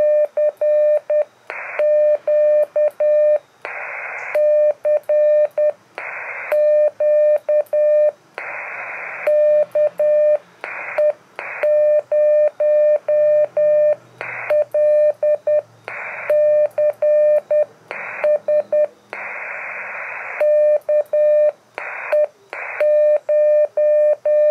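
Morse code CW tones send CQ on a ham radio with an MFJ-1820T antenna: a single steady beeping tone keyed in short dots and longer dashes, clear and close, with brief pauses between characters over a quiet background.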